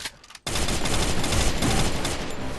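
Enemy gunfire in Free Fire erupts suddenly into a dense, continuous, loud barrage of shots lasting about two seconds after a brief quieter moment.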